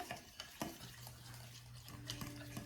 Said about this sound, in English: Just going to stir that to make this yummy, gooey